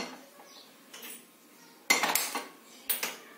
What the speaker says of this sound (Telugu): బాణీ పెట్టాను